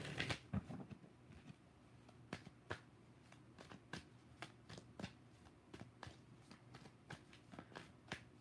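Tarot cards being shuffled by hand up close in a quiet room, a quick run of riffling snaps at the start followed by a steady series of sharp single slaps and flicks at irregular intervals.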